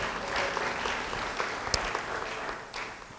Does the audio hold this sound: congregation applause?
yes